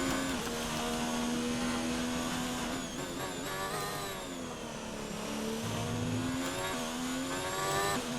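Formula 1 car engine in a racing video game at Australia, a loud sustained whine climbing steadily in pitch through successive gear changes and holding high revs, continuous and close with no talk.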